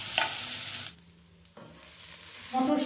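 Green pea paste dropped into hot ghee seasoned with asafoetida, stirred and frying with a soft sizzle that dips quiet midway, then swells louder with scraping stirs at the end.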